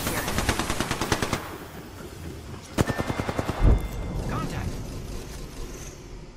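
Rapid bursts of automatic gunfire from Apex Legends, two clear rattling volleys with a heavy thud between them, close and loud over a low game ambience.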